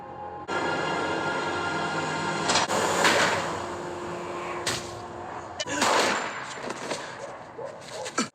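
Gunfire in a tense TV crime drama scene: several sharp, loud reports land at intervals over a steady background tone, with a few brief clanging accents between them and no clear speech.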